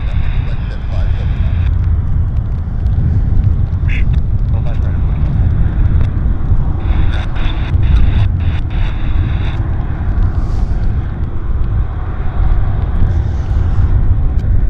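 United flight 243 departs from Vancouver airport with a loud, continuous roar of jet engines under heavy wind buffeting, while someone talks over it throughout.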